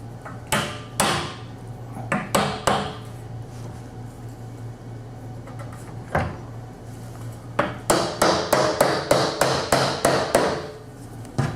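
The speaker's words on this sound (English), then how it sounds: "use our non-marking hammer to go in and put the door in place" Non-marking hammer tapping a sliding door handle into place on an NX sliding door, a series of sharp, close knocks, scattered at first and then a quick regular run of about a dozen taps.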